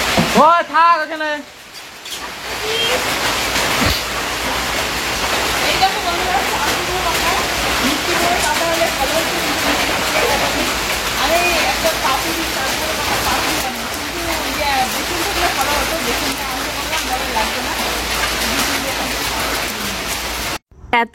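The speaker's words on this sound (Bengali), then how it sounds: "এত বৃষ্টিতে কি কি বললাম হয়তো শুনতেই পাওনি" Heavy monsoon rain pours down in a dense, continuous hiss and splatter. A voice speaks briefly at the start, and then the downpour carries on alone, loud and unbroken.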